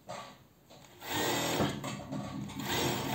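A coverstitch sewing machine hems swimwear fabric: after a quiet moment, the motor starts and runs in a fast, continuous mechanical whir and clatter close by, steady until the end.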